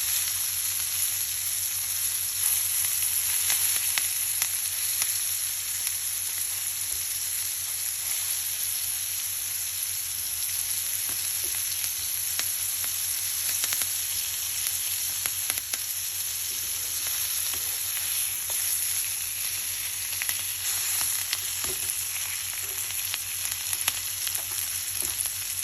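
A steak frying in a pan gives a continuous, even sizzle that stays loud and unbroken for the whole stretch, with faint scattered crackles.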